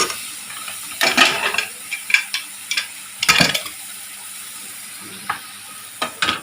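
Broken green chillies fry in a pan with a soft steady sizzle, close by, broken up by several sharp stirring scrapes and clatters, with no voices.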